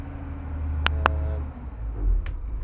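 A 56ft steel boat's engine drones with a steady low rumble that swells briefly near the end. A couple of sharp metallic clicks sound over it.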